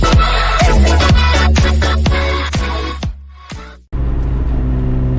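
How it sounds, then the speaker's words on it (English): Nissan 300ZX engine breathing through a Z1 PG 3-inch exhaust, revving hard in a series of loud, rising-and-falling bursts up close, then cutting off and settling into a steady idle rumble. "we're going to do a quick review on the Z1 PG 3-inch exhaust"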